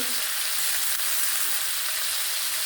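Prawns fry in a hot pan with a dense, continuous sizzle and faint stirring, steady and close, no voices.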